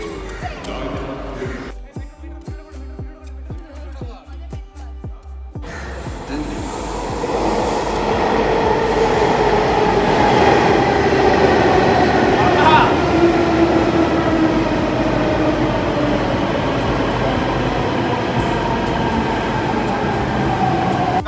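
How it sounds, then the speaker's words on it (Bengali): A Delhi Metro train pulls into a station, its low rumble swelling into a loud, sustained roar with high wheel squeals as it arrives, with people talking briefly before it comes in. "আমাদের মেট্রো অলমোস্ট চলে এসেছে।"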